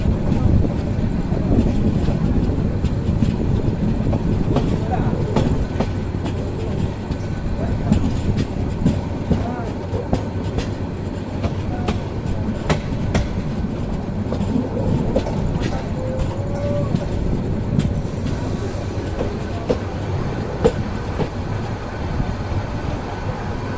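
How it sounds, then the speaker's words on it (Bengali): An Upaban Express night train rumbles steadily into Narsingdi railway station with rolling wheel clatter and rail noise, a continuous loud mechanical din throughout, with faint background voices. "আমাদের ট্রেন প্রবেশ করছে নরসিংদী রেলওয়ে স্টেশনে"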